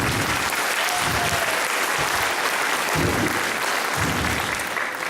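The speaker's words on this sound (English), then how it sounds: "Another round of applause for them, please." A school spring sing audience applauds loudly and steadily, a dense wash of clapping that fills the full few seconds without a break.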